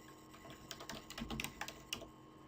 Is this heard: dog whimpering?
no